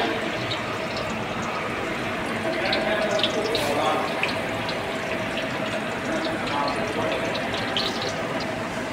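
Black mustard seeds are poured into hot oil in a wok, producing a steady loud sizzle and crackle that holds throughout, close up, with faint speech underneath.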